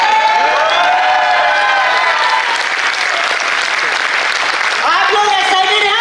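A crowd at a recognition event in Jabalpur claps and cheers loudly and continuously, dense applause with shouts and hooting rising over it, with a speaker's voice carrying through.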